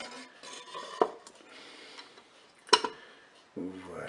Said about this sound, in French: Je vais déposer dans la cuve du Cookeo, eh bien, ma poêle